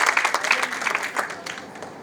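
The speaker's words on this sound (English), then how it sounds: "I once again request all of you to give a big round of applause to Srimati Srekala Bharath" An audience at a Bharatanatyam arangetram dance recital claps loudly in a brief burst of applause, many hands close by, fading slightly toward the end.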